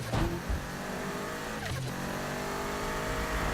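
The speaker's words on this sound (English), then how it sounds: "Oh, I do go quiet mainly just to listen to the car." Subaru car in the Need for Speed 2015 racing game, with a modified exhaust and manifold, gives a moderate engine and exhaust drone that rises and falls as it revs, with no talk.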